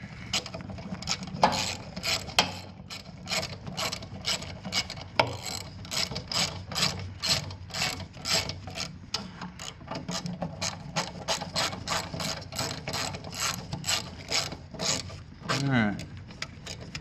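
Repeated metallic ratcheting clicks from a wrench tightening hydraulic fittings on a mini excavator during a hydraulic fluid change, a steady fast rhythm close up, with brief faint speech near the end.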